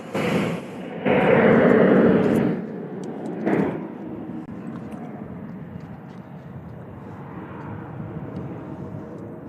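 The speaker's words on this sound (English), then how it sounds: "We're going to have the 767 coming in from Portland." A Boeing 767 airliner arriving at Louisville International Airport, its broad jet roar loud at first with a second swell, then fading to a steady distant rumble.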